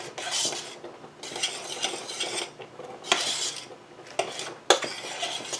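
A spoon scrapes and clinks around a pot of pepper jelly at a rolling boil in bursts of stirring, with faint bubbling and sizzling between strokes.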